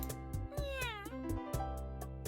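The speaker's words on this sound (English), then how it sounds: "I looked up and spotted the black cat inside the salad bowl along with the food." A cat in a video game meows several times in a row, rising and falling drawn-out calls that sound clear and close over steady background music.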